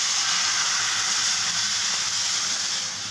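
Raw mango chutney in a frying pan, water just added, giving a loud, even hiss of steam and sizzle that fades slightly toward the end, with no talking.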